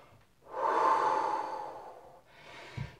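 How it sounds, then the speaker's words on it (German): Slow, deep breathing in and out during a workout cool-down: one long, loud breathy exhale followed by a softer second breath, close to the listener with no talk over it. "Atmen nochmal tief ein und aus."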